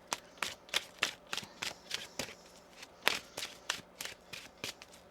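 Tarot cards shuffled by hand in a quick, uneven run of crisp riffling snaps and soft slaps, close and fairly quiet, with no talking.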